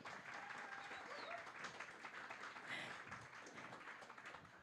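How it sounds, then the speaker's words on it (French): Faint, steady applause from an audience at a circular economy event in Montreal, with continuous dense clapping throughout. "Oui, on peut les applaudir encore."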